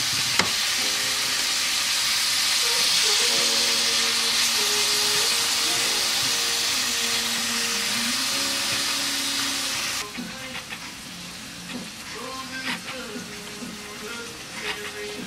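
Onions and mixed vegetables sizzle on a grill with a steady, loud frying hiss that fills the first part and then drops to a softer crackle, with a tonal hum running underneath.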